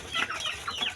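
Asil chickens cluck in quick, close, throaty bursts while being fed a seven-grain mix with hammered corn.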